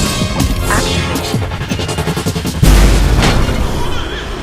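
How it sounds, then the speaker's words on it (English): Logic bomb special power in the action video game Remember Me, set off among robot enemies: heavy booming blast and crashing impacts, loud and close, with earlier thuds and effects leading into a big burst. "Let's try the logic bomb"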